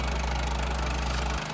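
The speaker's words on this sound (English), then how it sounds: "Its Kohler engine, around 25 horsepower, helps it attack the stump aggressively." A Vermeer SC30 stump grinder with a Kohler engine of around 25 horsepower runs steadily, a loud close throbbing drone that cuts off near the end.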